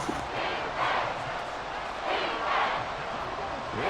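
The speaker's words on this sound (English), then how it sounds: "crowd turning up the decibel level" A stadium crowd roars in the Madden 24 football video game during a Texans regular-season franchise game, a broad continuous cheer that swells and dips in waves under game sound.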